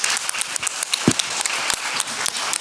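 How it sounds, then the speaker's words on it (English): Scattered applause from an audience at a talk on universalism, a sparse patter of claps that continues steadily and fairly close for a few seconds. "A big round of applause for Margaret Levi."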